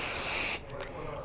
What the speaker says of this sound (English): I'm going to get some 505 spray and I'm going to spray it on the back of